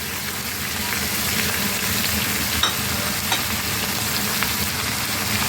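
Tomatoes go into a pan of bitter gourd frying with lentils, giving a dense, even sizzle that runs throughout, close and steady, with a few faint knocks and no talking.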